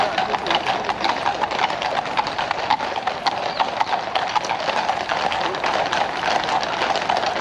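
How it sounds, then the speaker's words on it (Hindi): Many horse hooves clip-clop on a hard London street in a dense, continuous patter, like a group passing close by, with faint voices beneath. "घोड़े के पैर की आवाज़ जो होती है ना"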